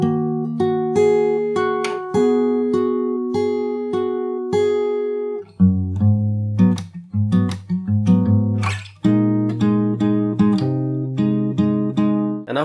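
The C part of a chord progression is played on fingerstyle guitar: clear plucked notes and ringing chords in a steady pulse, close and loud, with no talking.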